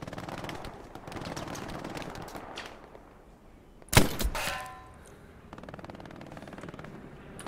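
Automatic and rifle gunfire in a tactical team battle video game, a steady rattle of shots punctuated by one loud close blast with a ringing tail, then continued distant firing.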